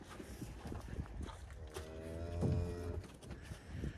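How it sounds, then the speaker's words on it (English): A cow moos with a drawn-out, tonal low call outdoors, set among soft shuffling and hoof-like thuds from moving livestock, with no speech. "What are you mooing about?"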